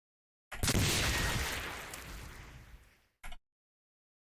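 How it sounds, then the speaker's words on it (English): A huge explosion in the video game Cataclysm DDA, probably a creature setting off a mine in a minefield: one loud broadband blast with a long decaying rumble, then a short, sharp second burst. "Huge explosion. I assume that's one of the ants or a zombie stepping in the minefield."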